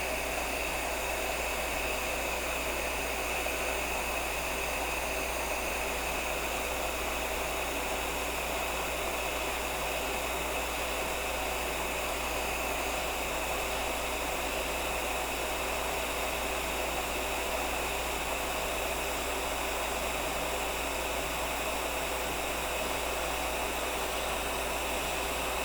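A heat gun on its hot setting blasts air onto a graphite orthotic arch, a steady, even hiss held at constant loudness close by for the whole stretch with no talk.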